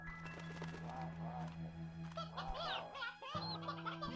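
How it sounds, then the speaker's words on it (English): Sea hens honking in Slime Rancher 2, a flock of game-bird calls in rapid irregular bursts over a steady musical hum, fairly close and moderately loud. "Ooh, that's a lot of sea hens."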